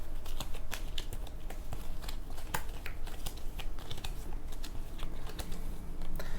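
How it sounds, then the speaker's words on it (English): Dune Imperium card discard pile being shuffled by hand, a steady run of dense riffling and flicking clicks that carries on throughout, close and moderately loud with no talking. "So I'm going to take my discard here and shuffle it."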